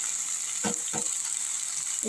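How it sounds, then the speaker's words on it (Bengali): Yardlong beans with potato and onion, seasoned with turmeric and chili, sizzle steadily in hot oil in a pan, with a couple of soft stirring scrapes and no one speaking. "তো এটা এখন ভেজে নিচ্ছি"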